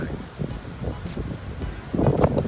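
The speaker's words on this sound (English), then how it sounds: "It is very windy, so I apologize if some of the audio does not pick up." Strong wind at a beach beside a pier under construction buffets the microphone in uneven rumbling gusts, growing louder toward the end.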